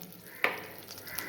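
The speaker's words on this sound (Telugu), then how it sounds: "ఓ పక్కన బెండకాయలకు ఆనియన్స్ వేగిపోయింది." Onions for an okra curry fry in a pan, a faint low sizzle with one sharp scrape of a spoon and occasional light taps.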